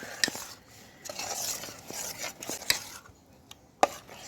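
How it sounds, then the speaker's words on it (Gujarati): Spice mixture with Eno and water stirred into idli batter, soft scraping stirs with sharp spoon clinks against the bowl, close and intermittent, no talk. "હવે આ બધું આપણે મસાલો હલાવી નાખશું."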